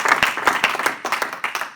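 Clapping from a church congregation comes in distinct, fairly regular bursts of claps, close and moderately loud, with no speech over it.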